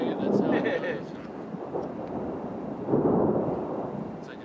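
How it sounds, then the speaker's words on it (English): Low rolling thunder from an approaching storm, a couple of deep rumbles swelling and fading in the distance, with a voice talking over parts of it. "It's like it's going to storm pretty soon"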